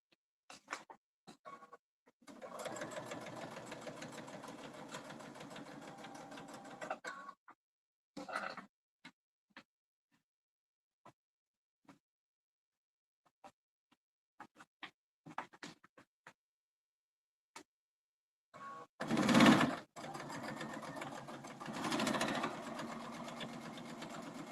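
Sewing machine stitching down a zipper on a quilted project bag, running in several bursts of steady mechanical whirring with short pauses and light clicks between, close and moderately loud.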